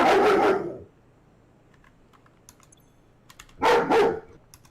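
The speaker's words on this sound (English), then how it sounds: "that's the sound of Freya, Garrett's German Shepherd" A German Shepherd barks twice in loud bursts, separated by a pause with faint clicking and tapping in the background.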